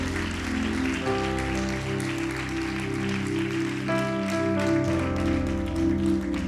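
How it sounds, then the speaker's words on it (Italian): A church congregation applauds in praise while sustained organ or keyboard chords play underneath, the clapping a dense, even patter carried along with the music. "Facciamo un applauso di lode al Signore."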